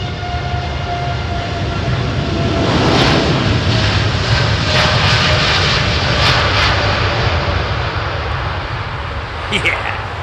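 A jet airliner on the runway at London Heathrow Airport gives a loud, sustained engine roar with a broad rushing hiss that swells and holds for ten seconds, while people talk over it.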